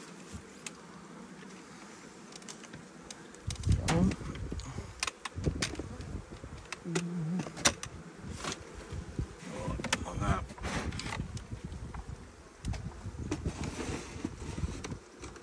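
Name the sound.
honeybees at a beehive during spring inspection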